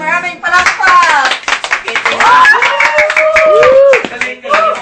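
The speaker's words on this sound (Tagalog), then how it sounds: "Pagbigyan ng maraming palakpak!" An audience claps at a gathering after a song: scattered, fairly loud hand claps mixed under loud voices and talking.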